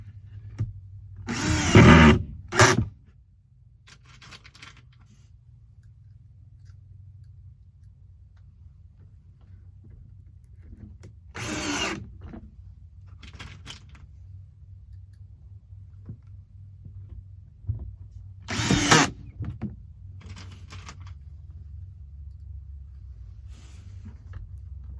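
Cordless drill driving screws into an electrical box in a garage, three separate short bursts of whirring spaced several seconds apart, fairly close, with a quiet low hum between them.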